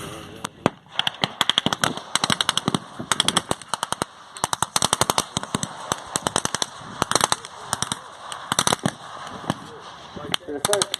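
Blank gunfire at a desert battle reenactment skirmish: rapid bursts of machine-gun fire and scattered single shots in dense, irregular volleys, loud and fairly close, with a voice talking underneath.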